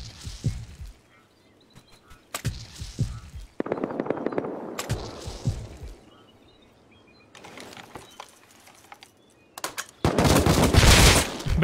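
Gunfire in an online shooter video game, scattered short bursts of automatic fire, some near and sharp, others fainter, separated by quiet gaps, ending in a louder sustained volley.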